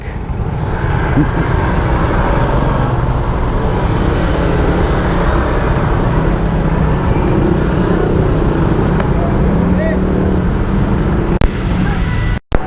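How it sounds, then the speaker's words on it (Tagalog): Dense road traffic rumbles steadily around a rider on a Honda XRM 125 FI motorcycle, with engines and road noise forming a loud, continuous wash; brief voices come through the din. "Grabe yung traffic."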